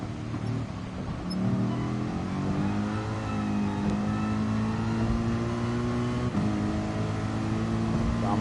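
A race car engine revs and drones steadily in a racing sim, with pitch rising through gear changes on the wet Tokyo east outer loop, loud and continuous with no talk.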